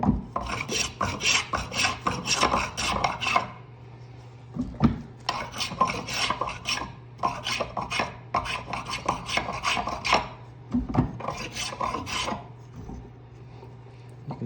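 A spokeshave shaves wood while a chair is being made, producing rapid rasping strokes in tight rhythmic bursts separated by short pauses, close and clear with no talking.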